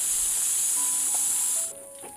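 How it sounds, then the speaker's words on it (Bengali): Meat pakoras frying in hot oil in a home kitchen give a steady, bright sizzling hiss that softens partway through, with faint clinks in the background. "পকোড়াটা ভেজে নিই।"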